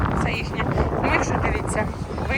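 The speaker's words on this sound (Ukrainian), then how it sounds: "зараз дуже сильний вітер" Strong wind buffets the microphone outdoors on a strawberry farm, a steady loud rumbling roar running through the whole stretch, with people talking over it.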